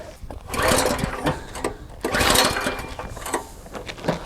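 Small engine of a new walk-behind tractor on its very first start, a close, rattling mechanical chatter that swells and fades in uneven surges, running continuously with faint speech underneath.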